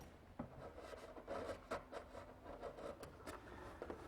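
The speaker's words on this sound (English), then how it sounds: "I'm also cutting a mortise in the face frame to receive the hinges." A chisel cuts a hinge mortise into the wooden face frame of an old pine dry sink. The rasping, scraping strokes are close and fairly faint, coming in an uneven rhythm with a few sharper taps.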